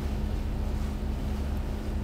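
A boat cruising on a single diesel engine at 2100 RPM, giving a steady low droning hum with a constant tonal line, fairly quiet and even, with no voices and a faint wind-like wash on top.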